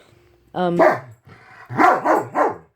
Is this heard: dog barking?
yes